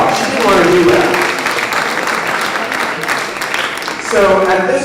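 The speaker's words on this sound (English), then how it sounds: "you should give her a round of applause" Applause from an audience at a public meeting about the closing of St. Vincent's Hospital rises under overlapping voices and talk, steady and fairly loud throughout.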